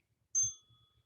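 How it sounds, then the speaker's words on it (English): During an exercise class a single bright bell strikes once and rings out briefly, clear and fairly close, fading within a fraction of a second over a quiet background. "Work through the bell."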